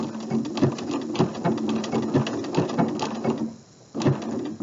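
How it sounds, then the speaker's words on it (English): Sewing machine stitching an appliqué, a fast, even mechanical chatter of needle strokes that stops briefly before resuming, close and clear with no voices. "I lift up my presser foot a bit to keep things lined up with that needle going right there beside the applique."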